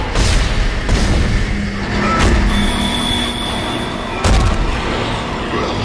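Gunfire in the video game Dead Space, heavy booming shots that land at irregular intervals over a constant rumbling game background, loud and close.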